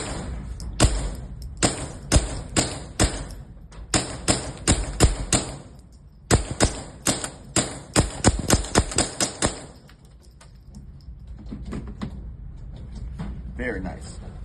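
Suppressed .22 pistol shots through a Dead Air RXD 22Ti titanium suppressor at an outdoor range, fired in two quick strings of sharp, evenly spaced cracks with a pause between, followed by quieter ambient noise.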